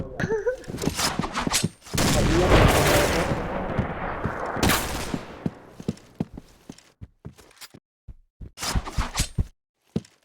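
Video game gunfire in rapid bursts: a dense, loud barrage of shots early on, then scattered sharp single cracks and short volleys with gaps between them.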